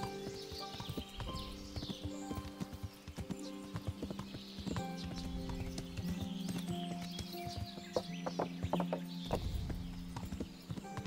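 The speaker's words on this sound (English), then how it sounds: "I've got my horse, so I'm quicker to get away from them." Horse hooves clip-clopping at a steady riding pace in the medieval game Kingdom Come: Deliverance, a continuous close rhythmic beat with a brief whinny and faint birdsong in the background.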